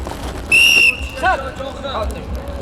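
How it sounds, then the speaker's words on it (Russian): A referee's whistle opens a kuresh wrestling bout at a Sabantuy festival in Domodedovo: one loud, sharp blast lasting under half a second, with crowd murmur and faint stadium noise continuing underneath. "Борьба по свистку, борцы."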